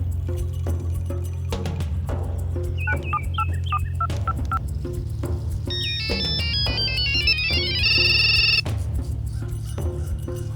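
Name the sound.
phone ringing in a movie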